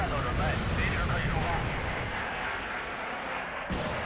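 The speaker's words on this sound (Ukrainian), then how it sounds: "Пішла артилерія" Artillery fire in the war strategy game Wargame: Red Dragon, a dense rolling rumble of distant booms and blasts layered over a continuous low roar, with a voice speaking over it early on.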